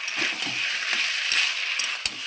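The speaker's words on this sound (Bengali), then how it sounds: "আরও কিছুক্ষণ আমি কষিয়ে নেব, কষিয়ে কষিয়ে রান্নাটা করব।" A vegetable curry with hilsa fish head sautés in hot oil with a steady, loud sizzle, broken by the occasional scrape and knock of a stirring spoon in the pan.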